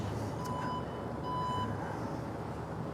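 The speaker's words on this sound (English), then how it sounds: "You'll notice there's lots of beeps in this vehicle" A 2020 Alfa Romeo Stelvio gives two short pairs of thin electronic warning beeps, faint over a steady low background rumble.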